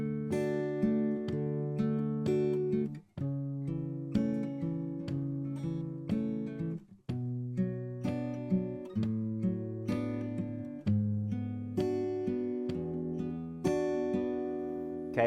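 Fingerpicked acoustic guitar plays the verse of a song, soft and close, with gently plucked bass notes and arpeggiated chord tones in an even, unhurried rhythm and brief pauses between phrases.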